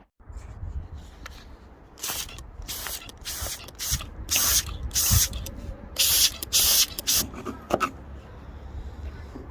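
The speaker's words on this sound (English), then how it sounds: "I'm just going to spray it into this area and just trying to get some pressure in there" A spray bottle of water hisses in a quick series of short bursts, roughly a dozen sharp sprays with brief pauses, aimed at a Honda Prelude's roof molding above the windscreen, close by over a low background rumble.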